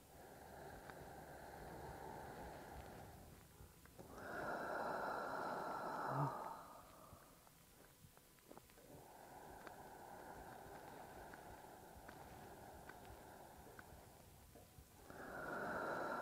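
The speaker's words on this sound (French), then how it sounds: "On va faire encore 3 respirations profondes" Slow, deep breathing during a yoga ball relaxation exercise, long airy inhales and exhales repeating in steady cycles of a few seconds each, close and fairly soft with no talking.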